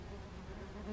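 Yellowjacket wasps swarm at a nest in a wine barrel, a steady dense buzzing hum that stays even and close throughout, with no voices.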